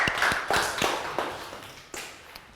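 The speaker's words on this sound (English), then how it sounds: "Round of applause, please." A class of young children applauding in a maths lesson, with several loud, separate claps scattered over a couple of seconds rather than a dense, sustained ovation.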